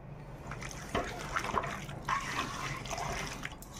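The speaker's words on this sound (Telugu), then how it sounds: "ఒక 100 గ్రాములకి ఆయిల్ అయితే పోసుకోవాలి." Oil poured over mutton pieces for dum biryani, a steady liquid pour and trickle heard close up with brief splashy bursts.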